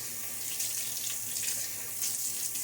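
Tap water runs steadily into a sink for rinsing during a wet shave, a close, continuous hissing splash with no voices.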